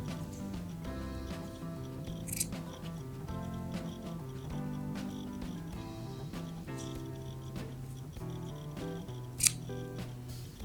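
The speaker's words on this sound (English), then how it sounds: "slide my scissors in there and cut" Soft, repeated snips of scissors cutting through felt, quiet and close, with light handling rustles between cuts.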